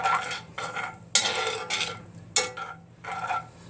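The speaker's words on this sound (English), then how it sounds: "And just sort of stir it around" Butter is stirred into a pan sauce in a pan with the heat off, producing repeated scraping, swishing strokes in a loose rhythm, fairly close and moderately loud.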